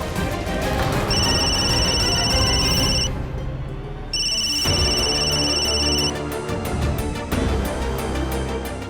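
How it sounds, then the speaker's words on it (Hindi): A telephone rings in two bursts of electronic trilling separated by a short pause, loud and close, over steady background music. "हम अभी राधिका को फोन लगाते हैं।"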